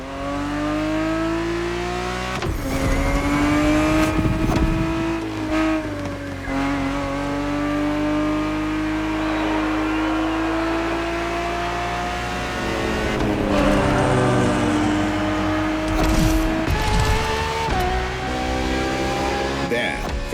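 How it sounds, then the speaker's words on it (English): A 1970s Ferrari 365 GTB4 races in The Crew Motorfest, its engine revving loudly with rising and falling pitch through gear shifts, brief tire squeals and sharp drops as it brakes into corners. "365 GTB4 is the perfect vehicle for you to experience Ferrari racing as it felt back in the 70s."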